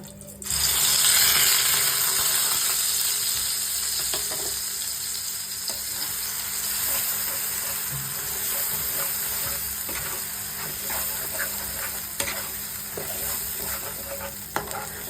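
Spice paste hits hot oil with whole garam masala and erupts into a loud, dense sizzle, then settles into a steady crackling fry with occasional stirring scrapes.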